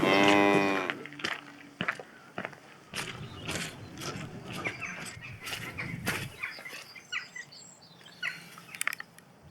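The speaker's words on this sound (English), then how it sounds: "Bloody big gang of sheep just came running over from quite a long way away as well." A large flock of sheep runs across a winter field toward the listener. A loud bleat opens, followed by scattered bleats, hoof clatter and rustling movement, close by and irregular.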